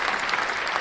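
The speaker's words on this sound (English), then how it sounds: "We've got to give a clap for that." Brief burst of dense audience clapping for the first gladiator character in a PulseChain gladiator game, steady and fairly near with no talking over it.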